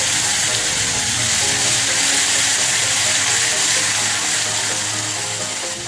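Garlic paste hits hot oil with bay leaves in a pan, raising a loud, dense, continuous sizzle that holds steady at close range throughout.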